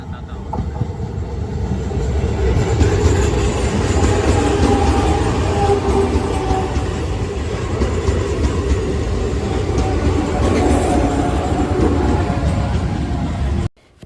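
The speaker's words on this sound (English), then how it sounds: "I now will be in a train" Steady rumble and rattle of an Indian passenger train rolling along the tracks near Chennai, heard from inside the carriage, loud and continuous with clacking and hiss until a sudden cutoff at the end.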